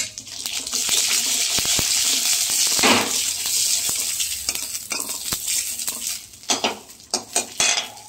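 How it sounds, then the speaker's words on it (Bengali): Dried red chillies and mustard seeds crackling in hot oil for a thin mutton curry, a bright continuous sizzle with sharp pops and metal utensil clinks nearby, ending in scattered stirring taps, no talking. "শুকনো লঙ্কা আর সর্ষে আমি তেলে ফোড়ন দিয়ে দেবো"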